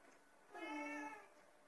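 A single indoor cat meows once, a clear drawn-out mid-length cry rising and falling against quiet room tone.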